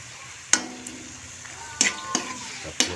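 Squid sautéing in a pan, a low sizzle under sharp spatula clinks and scrapes against the metal, about four distinct knocks spaced irregularly, close and fairly loud.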